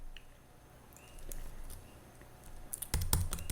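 Typing on a computer keyboard while editing in Vim: quiet scattered key taps, then a quick burst of louder, closer keystrokes near the end, with no talking.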